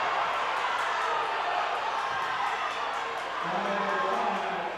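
Crowd noise at a girls' high school basketball championship game in a gym, a broad steady roar of spectators reacting to a foul call, with some vocal cheering and shouts mixed in throughout.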